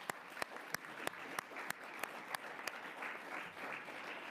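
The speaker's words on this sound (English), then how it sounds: "please join me in giving a round of applause to our esteemed panelists here" Audience applauding panelists at the close of a policy briefing on GDPR, a steady wash of many hands clapping at a moderate distance, with a few sharp individual claps standing out near the start.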